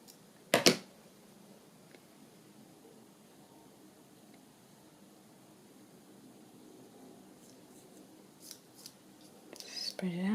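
Scissors trimming paper for a journal pocket, one short sharp snip near the start followed by quiet rustling and a few more faint cuts toward the end.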